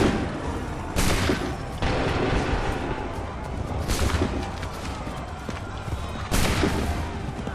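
Musket volleys crack out in an Assassin's Creed III battle, three loud broad bursts spaced a few seconds apart over a busy backdrop of hooves and battlefield clatter.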